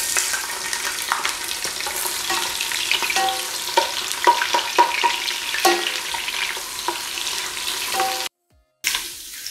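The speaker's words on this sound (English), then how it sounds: "And in the palm oil, I'm going to add some onions." Onions fry in hot palm oil in a cooking pot, giving a steady close sizzle with bursts of crackling and stirring scrapes, then a brief cut to silence near the end.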